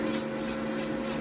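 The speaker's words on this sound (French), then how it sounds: "Je vous en parle vraiment beaucoup de cette ponceuse." An electric nail sander buffing off gel polish, giving a steady, close whirring rasp that holds constant for a brief moment with no talking.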